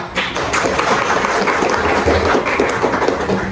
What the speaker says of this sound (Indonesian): give applause to Alia